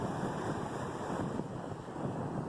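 Sea waves wash onto the shore at Karachi in a steady, even roar of surf, with wind-like noise blending into the wash and no voices over it.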